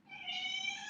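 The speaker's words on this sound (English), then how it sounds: "That's my cat, you know." A house cat gives a single short, clear meow, close and fairly quiet, alone without talk.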